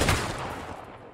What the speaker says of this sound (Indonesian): suara tembakan hanya terdengar 1 kali